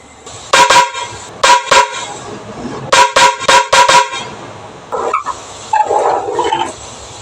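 Loud, close magnetic air horn blasts in short bursts, a couple of single honks then a rapid cluster, followed by softer toots and a dog barking.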